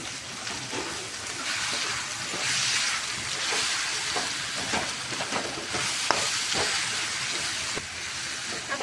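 Diced potatoes for Gujarati suki bhaji are stirred in a hot pan, giving a continuous loud sizzling hiss broken by scraping strokes of the spoon, close up with no talking.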